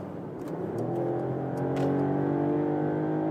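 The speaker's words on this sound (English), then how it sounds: "One more quick acceleration from 100 to 130." Mercedes-Benz E-Class six-cylinder accelerating on a motorway from 100 to 130 km/h, heard from inside as a smooth rising engine hum with steadily climbing harmonics and road noise underneath.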